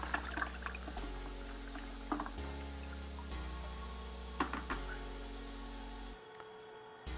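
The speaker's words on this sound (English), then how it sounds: "I'm going to rinse this board under fresh water" Water pours and splashes into a bucket as a circuit board is rinsed by hand in fresh water, with several surges and drips, a steady low hum underneath and brief clatters.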